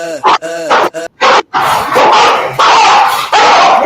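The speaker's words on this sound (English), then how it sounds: "We woke up the puppies." Several puppies bark and yip excitedly in quick bursts nearby, loud and overlapping, settling into a continuous noisy chorus.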